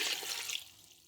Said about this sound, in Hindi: अब हम इसमें 1 प्याला पानी डालेंगे